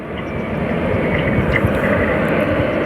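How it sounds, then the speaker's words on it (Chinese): A large passenger airplane takes off at a busy airport, its jet engine roar a loud, steady, broadband rumble that swells slightly and holds throughout, with no voices. "现在起飞有架飞机啊"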